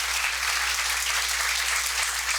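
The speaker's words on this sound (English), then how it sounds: "Y'all give her a round of applause." A crowd at a community meeting in Henrico County applauds steadily and loudly throughout, a dense, even wash of clapping with no voices standing out.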